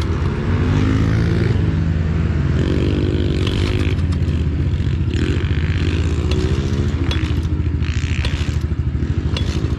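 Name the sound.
pit bike engine running in gear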